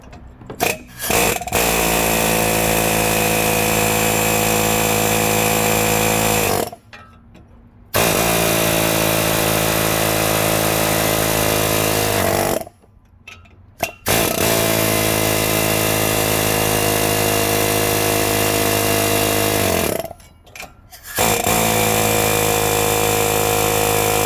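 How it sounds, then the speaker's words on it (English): A pneumatic air chisel hammers at a stubborn wheel bearing on a 2016 Dodge Ram 4x4, a loud, close, continuous rattling buzz in three long bursts separated by short pauses. "This is the air chisel."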